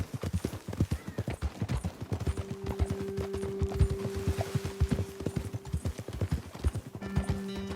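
Horse hooves in Red Dead Redemption 2 clip-clop in a quick, steady rhythm close by, with a faint tonal hum running underneath through much of the stretch.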